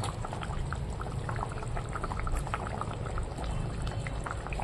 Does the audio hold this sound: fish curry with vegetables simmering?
yes